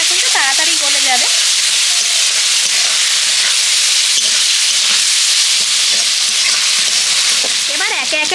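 Onion and tomato fry with salt in a hot pan, giving a loud, continuous sizzle with a steady steamy hiss and a few scraping stirs near the start and end.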